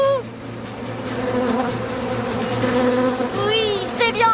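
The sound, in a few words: bees buzzing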